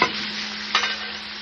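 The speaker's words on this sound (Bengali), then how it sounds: "টমেটো বাটা, লঙ্কা বাটা, হলুদ গুঁড়ো, নুন দিয়ে আমি কষাবো" Tomato paste, chili paste, turmeric and salt fry in a pan, making a steady close sizzle with one brief scrape of stirring partway through, no voices.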